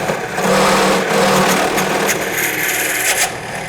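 A large bit bores aggressively into wood, a loud, rough grinding rasp with uneven chattering pulses, close and continuous, with no voices.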